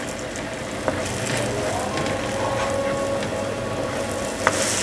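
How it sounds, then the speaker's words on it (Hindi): Tomatoes fry in a pan with golden-browned garlic-ginger paste for egg masala curry, a steady close sizzle with occasional stirring clinks and scrapes, no talking. "तब हम इसमें डाल देंगे टमाटर, अब इसको भी भूनेंगे थोड़ा सा।"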